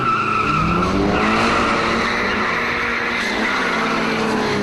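A Datsun Bluebird, a Toyota Corolla and a 1600 race hard together, engines screaming at high revs with tyres squealing, loud and continuous as the cars accelerate through the gears.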